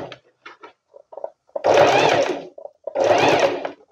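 A sewing machine stitches a smocked curtain in two steady, close bursts of whirring about a second long each, preceded by faint handling clicks.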